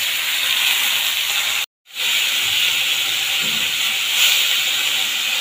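Boiled, drained taro leaves hiss and sizzle loudly in hot oil in a pan, a steady bright spray of frying noise broken by a brief silent gap.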